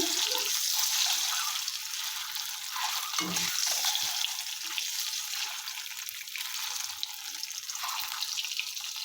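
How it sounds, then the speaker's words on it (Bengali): Eggs fry in a pan with salt and milk until browned, giving a steady, close hiss and crackle of hot oil that runs unbroken throughout, with a few soft scrapes underneath. "ডিমগুলোকে ভেজে নেব নুন আর দুধ দিয়ে তো ভেজে একটু লাল লাল করে নেব"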